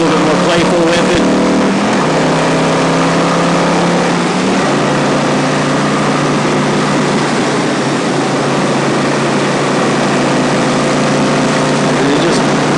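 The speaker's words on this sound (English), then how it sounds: "And it just runs right along." A 2007 Yamaha V-Star 1100 Classic motorcycle being ridden, its engine droning loud and steady with strong wind rush, a brief shift in pitch early on, then a continuous even run.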